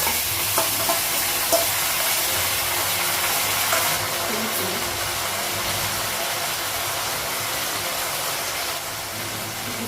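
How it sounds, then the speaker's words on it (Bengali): Fried onions sizzle in a home kitchen pan with ginger and garlic paste added, a dense continuous hiss with light stirring scrapes, close and fairly loud, with no voices. "পেঁয়াজটা ভাজা হয়ে গেছে মশলাটা লাগালাম আদা বাটা রসুন বাটা"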